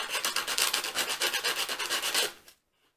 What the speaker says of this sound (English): I am now going to rub, if you can see that, just on that edge.